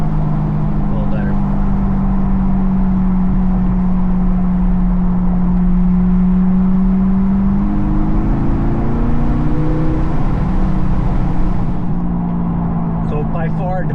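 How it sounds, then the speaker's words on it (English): A C8 Corvette with an aftermarket exhaust drives along, giving a steady low engine drone that swells and shifts pitch as it accelerates, heard close from inside the car with the windows down. "It sounds pretty amazing, actually, overall, this exhaust."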